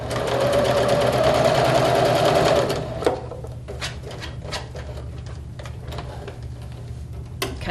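A sewing machine runs fast and loud for about three seconds, sewing down a fabric edge, then stops. A few sharp ticks and light handling clicks follow.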